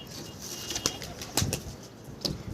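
Pigeons take off and flap through the air in a few brief bursts of wingbeats, heard at moderate distance over an outdoor background.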